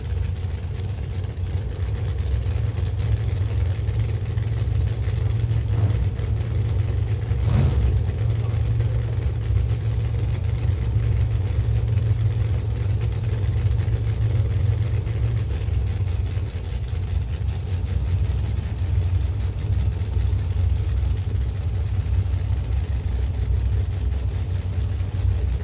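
A Pro Charger drag racing car's engine spools up at a dragstrip, a loud, steady low rumble and drone holding throughout without clear breaks.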